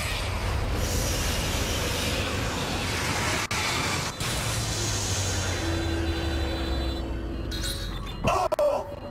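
Dead Space 2 video game train: a loud, continuous rail rumble with wheel clatter and thin metallic squeals that rise near the end, with no voices over it.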